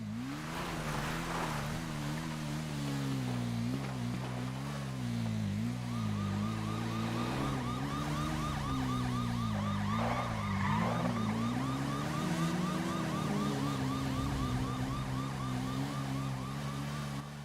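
A wailing emergency siren in a roleplay video game sweeps continuously up and down, loud and steady for the whole stretch, with a second higher siren tone joining partway through and no talk over it.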